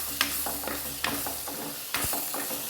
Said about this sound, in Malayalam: നന്നായിട്ട് തന്നെ ഇളക്കി കൊടുക്കണം.